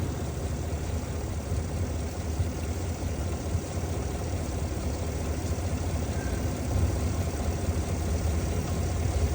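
The 6.2 L engine of a 2021 Cadillac Escalade idles at a steady low hum, constant and fairly quiet, with no talk over it.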